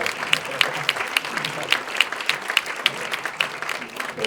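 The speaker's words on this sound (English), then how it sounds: "Give him a nice round of applause." An indoor audience at a speaker-series event claps in a steady burst of applause lasting a few seconds, with no talking over it.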